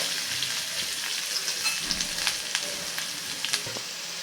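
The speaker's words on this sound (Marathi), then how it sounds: "आता ही भाजी एक साधारण दोन मिनटं आपण छान तेलावरती परतून घेऊयात" Chopped cabbage sautéing in oil in a pan for paratha filling gives a continuous close sizzle with small crackles and occasional stirring scrapes, steady and alone without any voices.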